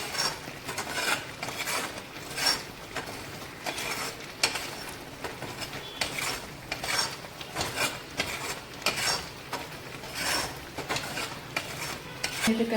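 A sweet mixture is stirred steadily in a pan as it thickens and froths white. Repeated rhythmic scraping strokes sound quietly and close, with no one talking.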